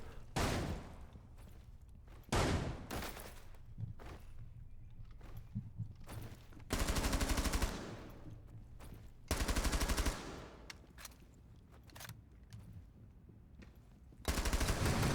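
Hip-fired automatic weapons in a video game rattle out in several sharp, loud bursts of rapid gunfire, separated by quieter stretches of low rumble and faint movement.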